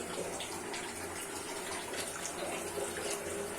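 Water runs from a tap or pitcher into a pot of chicken kofta and potato gravy, a steady rushing splash that holds at an even level for a few seconds, with no voices.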